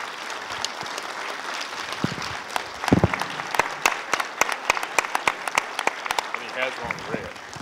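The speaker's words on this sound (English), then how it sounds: "let's give them a big round of applause" An audience at a lecture breaks into a round of applause, dense clapping that swells and holds for several seconds, with individual claps standing out near the end.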